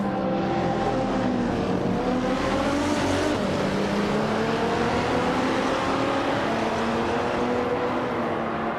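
A 1996 Ozella P21 Honda race car in a racing video game drones with a steady, loud engine note that rises and falls through gear changes. It runs alone, with no voices.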